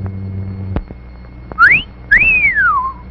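A person gives an appreciative wolf whistle, a rising note followed by a longer rising-then-falling glide, loud and close, after a few faint knocks.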